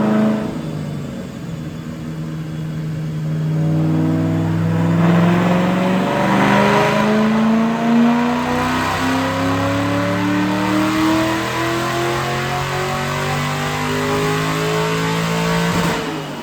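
A supercharged 2009 Mustang GT 3-valve V8 with a Paxton Novi 2200 winds up on a dyno, its loud engine note climbing steadily through a long continuous pull before cutting off near the end.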